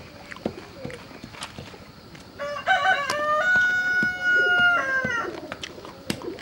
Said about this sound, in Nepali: भाले मजाले बासिरहेको थिएँ।